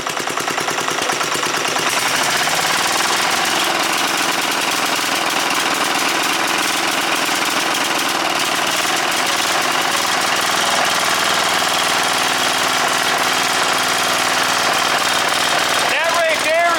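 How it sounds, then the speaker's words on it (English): Murray wide body mud mower build, its small engine idling loud and close: a steady, rough, chattering drone with constant vibration, slightly rising in pitch near the end. "That right there is about as fast as it'll idle or run without breaking up."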